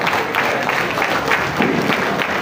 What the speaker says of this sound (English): Keep clapping for the 15th Aare Iba Gani of Yoruba land.